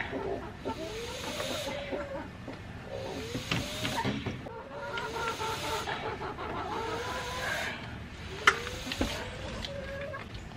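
Baby chickens on fresh grass on a farm give off a steady stream of soft chirps and clucks, close by and continuous over a low outdoor background, with a couple of sharper sounds near the end.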